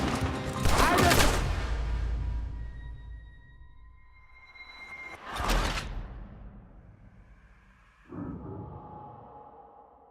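Gunfire in Red Dead Redemption 2: loud bursts of shots near the start and again around the middle, with a further hit late on, separated by quieter stretches of game sound.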